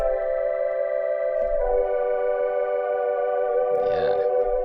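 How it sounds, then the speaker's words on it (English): A Third Grade Flute preset on the Lo-Fi Glow instrument in Cubase plays a sustained, warm, slightly hazy chord with a rich harmonic drone, shifting once and ending with a soft breathy swell, with no voices. "He used an instrument called Lo-Fi Glow."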